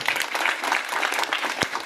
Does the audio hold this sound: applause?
yes